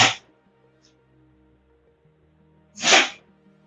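Two sharp, close sneezes: one at the very start and a louder one about three seconds later, with near silence and a faint hum between.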